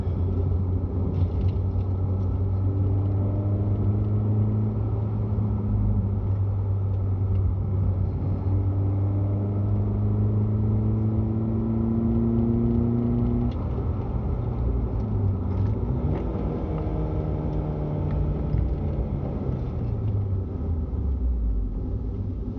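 A Chevrolet Spark M400 fitted with a new short ram air intake drones loudly and close up from its engine, revs rising in long sweeps and then falling away near the end.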